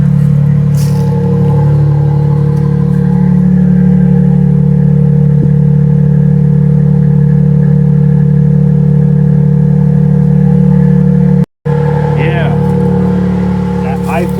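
A 2026 Toyota Sequoia TRD Pro with the iForce Max engine idles loudly up close with a steady deep exhaust drone, briefly cutting out for a moment before the engine rumble resumes, while someone talks over it.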